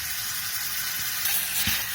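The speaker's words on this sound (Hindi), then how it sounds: "अब हमने इसे 2 से 3 मिनट भून लिया है" Beef nihari with nihari masala sizzles steadily in a pan, a close, even hiss with a soft stirring scrape near the end.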